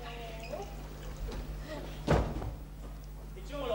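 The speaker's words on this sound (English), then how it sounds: "let me shut the front door," A front door shuts with a single dull thud midway through, heard alongside people talking in a room.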